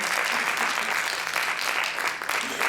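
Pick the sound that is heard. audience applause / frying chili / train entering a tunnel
audience applause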